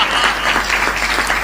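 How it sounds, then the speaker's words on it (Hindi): Audience applause at a Hindi poetry recital, steady dense clapping from a crowd filling the whole moment without a break, fairly loud and close with no talk over it. "तालियां कमजोर हैं आपकी।"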